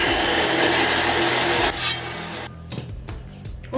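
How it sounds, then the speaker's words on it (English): An electric blender whirs loudly as it purees a marinade with lemongrass for Korean kalbi short ribs, running steadily for nearly two seconds before winding down, followed by softer clatter. "Now, plug this bad boy in to the blender."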